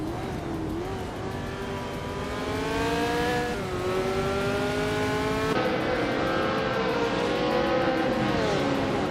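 Race car engines in a racing video game, including a 1968 McKee Mark 12, loud sustained whine with rising and falling pitch as several cars rev and shift, alone without talk.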